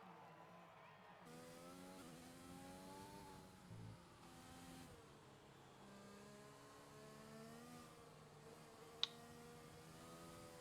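An F1 car engine in the game F1 2020 screams through a hot lap at the Japanese Grand Prix, its pitch rising and dropping through gear changes and corners, faint and continuous in the background.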